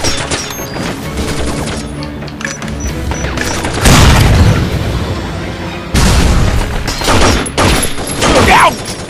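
Grenade explosions and rapid gunfire in the Binary Domain shooter game form a loud, dense barrage, with heavy booms around the middle and continuous shooting throughout and no clear talk over it.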